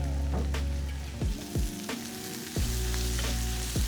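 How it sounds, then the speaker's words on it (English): Garlic and a big pinch of chili sizzle in hot oil for spicy garlicky clams, a steady close frying hiss with a few stirring scrapes, with no talking. "When you sizzle spices and garlic in the oil, it really blooms them and brings out their flavors into the oil."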